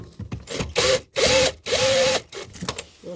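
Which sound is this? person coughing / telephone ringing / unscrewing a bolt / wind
unscrewing a bolt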